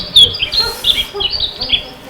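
A small bird resembling a sparrow gives a series of short, bright chirps and squeaky calls at close range, spaced irregularly over a faint background.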